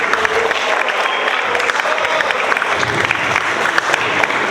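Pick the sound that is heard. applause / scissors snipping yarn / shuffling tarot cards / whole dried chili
applause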